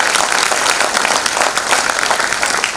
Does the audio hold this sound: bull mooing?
no